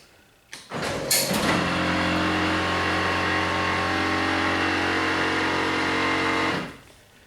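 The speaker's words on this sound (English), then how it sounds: "any GM product with the pop-up headlights just has that issue of the gears stripping out and making that, you know, that audible sound right there." A 1995 Pontiac Firebird's pop-up headlights lower with stripped gears, giving a few clicks and then a loud, steady grinding whir for about five seconds that cuts off abruptly, close by with no talk.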